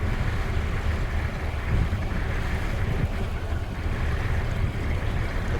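Steady broadband rush of wind and water aboard a cruise ship at sea between Denmark and Norway, loud and constant with a low rumble, no talking.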